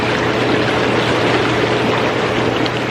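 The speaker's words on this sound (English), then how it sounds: "But these bubbles, that's the sound you're hearing." Intex PureSpa hot tub with its bubble jets running, a loud, steady rushing and frothing roar over a low motor hum, unchanging throughout.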